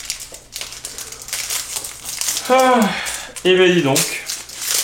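Pokémon Voltage Éclatant booster pack wrappers crinkle and rustle close up as they are opened, in short scratchy bursts while someone talks over them in French.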